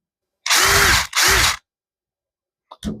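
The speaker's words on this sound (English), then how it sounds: "I'll drill through the cover and" A power drill bores through a plastic pickguard cover into a flamed maple Telecaster-style guitar body in two loud, short bursts of whirring and grinding, followed after a pause by a brief faint spin.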